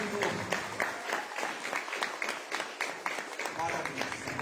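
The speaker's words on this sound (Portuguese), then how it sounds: "Se é para aplaudir, aplauda com força aí, hein?" A church congregation claps in dense, rhythmic applause with a steady pulse, while a voice speaks over it.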